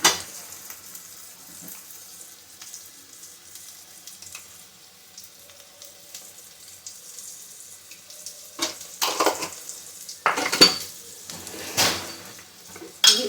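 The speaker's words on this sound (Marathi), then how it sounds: "भाजून घेऊया बारीक गॅसवरती तुम्ही मसाला चांगला परतून घ्यायचा" Onion-garlic masala with salt and turmeric is sautéed over a low flame. A faint background hiss runs for most of the time, then bursts of louder sizzling and stirring scrapes arrive near the end.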